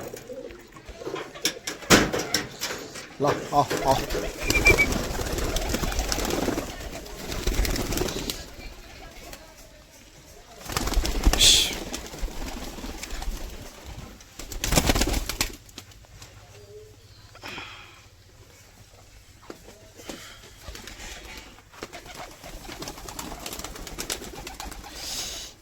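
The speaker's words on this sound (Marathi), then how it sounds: "आता कबूतर सोडतोय" Pigeons being released in the late morning, their coos and wing flaps mixed with bursts of movement and a brief spoken word, fairly close and uneven over about twenty-five seconds.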